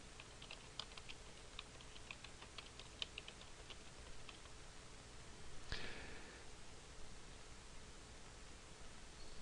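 Someone types a slide title on a computer keyboard, producing soft, close key taps in short bursts over a steady background hiss. Nobody talks.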